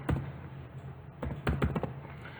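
Fingers typing on a computer keyboard, with sparse single clicks followed by a quicker cluster of keystrokes, close and crisp over a low steady hum.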